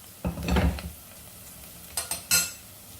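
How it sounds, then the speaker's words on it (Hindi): Chopped onion stirred in a pan while frying toward golden brown: a brief scraping stir at the start, then a quiet low sizzle, followed by a few sharp clinks of a utensil against the pan. "इस प्याज को हम गोल्डन ब्राउन होने तक भून लेंगे अच्छे से"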